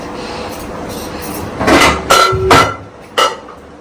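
Metal clanks and clatters close by, a few sharp knocks of a pressure cooker lid and pots being handled, with a ringing tone after one hit.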